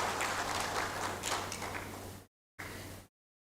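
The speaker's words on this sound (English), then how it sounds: "Clap for yourselves." An audience at the closing of a county assemblies legislative summit in Mombasa clapping together, a dense steady wash of applause that cuts off abruptly, then resumes briefly before stopping.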